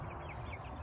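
Chickens cluck softly in a coop with fresh shavings on a frosty late-April morning, a faint, brief murmur of hens.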